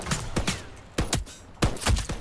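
Bursts of gunfire in the 5v5 competitive shooter game Veiled Experts: several loud, close shots in quick irregular clusters, separated by brief gaps.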